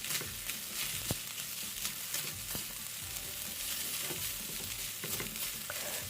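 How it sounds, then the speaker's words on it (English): Chicken fried rice with vegetables and scrambled egg stirred in a hot pan, a steady close sizzle with occasional scraping clicks of the utensil, no talking. "So I'm going to be mixing this together and allow it to cook now for another 3"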